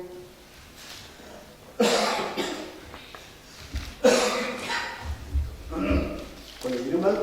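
A person coughs in a couple of sharp bursts during a Tamil Bible reading from Acts chapter 13, with a voice speaking between and around the coughs.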